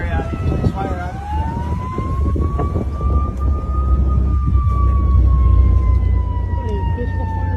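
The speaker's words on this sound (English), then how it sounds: "Hey, this the fire truck though." Fire truck siren wailing at a responding emergency, its tone slowly rising and falling over steady engine and road rumble, fairly close and continuous.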